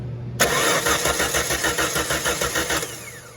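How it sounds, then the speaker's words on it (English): A car's starter cranks the engine with the ignition disabled, so it never fires: a loud, rhythmic chugging that begins abruptly and pulses steadily for a few seconds before stopping. "We've disabled the ignition so we can just crank it."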